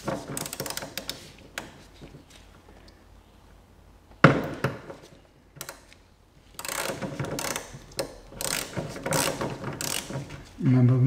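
Ratchet wrench with a 16 mm socket loosening the wiper arm nuts on an Audi Q7, several bursts of close, sharp clicking ratchet strokes separated by quieter pauses.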